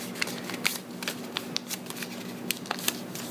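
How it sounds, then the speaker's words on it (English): A regular sheet of paper is folded several times by hand, giving sharp crisp creases and rustles in irregular bursts, close up over a faint steady hum. "Now I'm going to fold just a regular size piece of paper"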